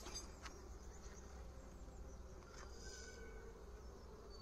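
Honey bees in a hive at an apiary give off a faint, continuous low buzz, with a few individual bees flying close by now and then and no talking.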